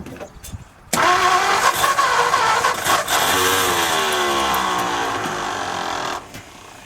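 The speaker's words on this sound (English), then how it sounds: "now I know the fuel pump works" A 1955 Ford F250 engine cranks and catches after a sharp onset, then runs roughly at a steady mid pitch, loud and close, before cutting off. It is driven by its fuel pump drawing old gas.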